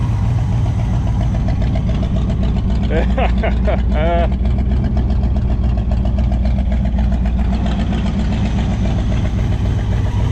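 A long-dormant 1964 Pontiac Catalina barn find idles loud and near with a deep, slightly lumpy rumble, while someone talks briefly over the engine partway through.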